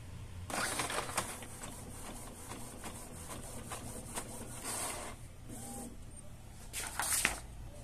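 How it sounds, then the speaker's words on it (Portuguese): An Epson EcoTank L495 inkjet printer running a test page, giving repeated mechanical whirring and scraping passes of the print head and paper feed, moderately close with brief pauses between strokes. "Agora é só imprimir uma página de teste para testar a impressora."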